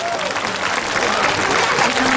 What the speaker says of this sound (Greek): Να τους δώσουμε ένα δυνατό χειροκρότημα που είναι η πρώτη τους φορά στο θέατρο